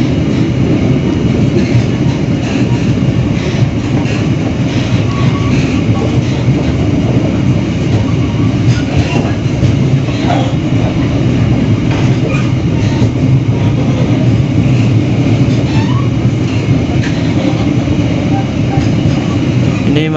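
Cikuray passenger train pulling into Bekasi station, a loud continuous rumble with rhythmic wheel clatter over the rails, heard from on board, with voices talking faintly beneath.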